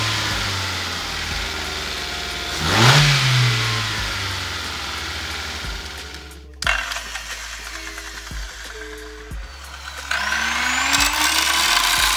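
A straight-piped Skoda Favorit engine revs loudly up close, with a sharp rise and fall followed by idling and further blips of the throttle, harsh and raw with no talking.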